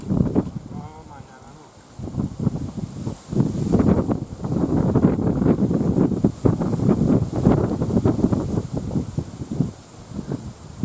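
Strong wind buffets the microphone with a steady roar and gusts, while a person talks over it outdoors.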